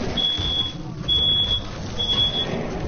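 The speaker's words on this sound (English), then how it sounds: "The super smoke alarm keeps on going off." A smoke alarm goes off at home while someone is cooking, giving three shrill electronic beeps at a steady rhythm over muffled background noise and faint voices.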